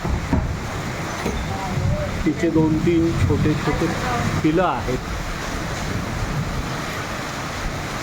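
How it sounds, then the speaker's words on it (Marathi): Heavy rain and strong gusting wind in a May storm make a steady, dense roar close by, while someone talks over it throughout. "ती जोराचा पाऊस आहे"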